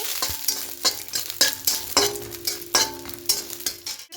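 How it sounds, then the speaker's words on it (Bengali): Lentil dumplings (bori) fry in a small amount of mustard oil, giving a steady sizzle broken by repeated scraping clinks of a spoon stirring in the pan. "এবার তেলের মধ্যে বড়ি দিয়ে দেবো। বড়িগুলোকে হালকা লাল করে একটু ভেজে নেব।"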